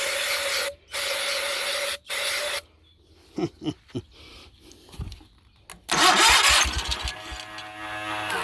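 A Cub Cadet 1812 lawn tractor engine cranks in a few long bursts with pauses, some clicks and clunks, then finally catches and roars to life.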